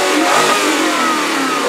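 Volvo XC90 fitted with a Yamaha 4.4-litre V8, revved briefly up close, giving a loud, steady roar of engine noise with no talking.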